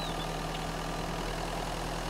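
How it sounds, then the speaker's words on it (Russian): A car engine idles steadily in the survival video game Mist Survival, a continuous low rumble with a faint mechanical hum and no voices. "мотор не заглушил"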